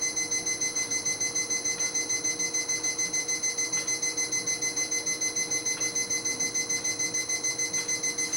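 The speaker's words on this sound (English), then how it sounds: "I hear this timer. Do you hear the timer?" A timer alarm beeps in a fast, even, continuous pulse at a steady moderate level for the whole stretch, with a faint hum beneath and no talk.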